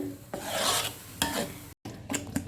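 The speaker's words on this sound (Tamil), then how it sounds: "ஓகே, வெங்காயம் இங்கே பார்த்து வதங்கினது பார்த்தீங்கன்னா இப்படி ப்ரௌனிஷாக ஆயிடுச்சு." Chopped onions being sautéed in oil in a pan for a Malaysian vegetarian nasi lemak sambal, with stirring scrapes over a steady sizzle and a brief break near the end.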